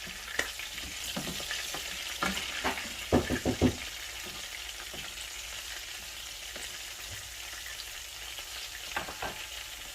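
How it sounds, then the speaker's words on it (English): Garlic and anchovies frying in a pan, a constant close sizzle with a few scraping stir strokes, faint water sounds in the background and no talking. "Just putting our garlic in. There we are. Give that a stir."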